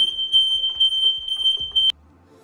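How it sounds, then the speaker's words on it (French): A forklift warning barrier's acoustic alarm sounds a loud, steady high-pitched electronic tone continuously in a showroom, then cuts off abruptly near the end. "Cette barrière est disponible en version avec panneau d'avertissement ou avec système d'alarme lumineux et acoustique."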